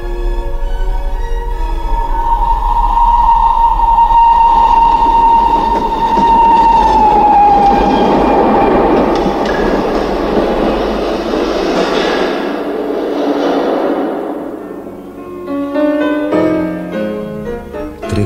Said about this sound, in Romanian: am luat trenul spre Viena